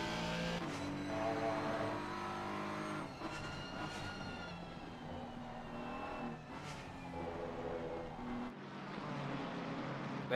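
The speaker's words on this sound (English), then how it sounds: "Let's listen into the revs as they rise." A GT3 race car engine in a sim racing game revs and shifts through gears, rising and falling in pitch, loud and continuous throughout, with no voices.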